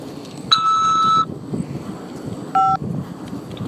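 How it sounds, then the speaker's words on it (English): Two separate telephone keypad tones sound on a prison call prompt, one about a second long and a shorter one later, over a faint background hiss. "After the beep, press 5 to accept this call."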